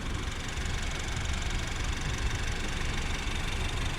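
A 2014 Honda Civic's small fuel-saving engine idles steadily, a constant mid-pitched rumble with a faint knocking texture, close and unbroken, with no voices.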